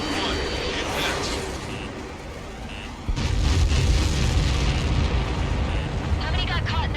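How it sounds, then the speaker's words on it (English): A missile impact explosion in the flight combat game Ace Combat 7 Skies Unknown erupts with a heavy, deep boom midway and rumbles on, with radio voices talking over it. "How many got caught in that explosion?"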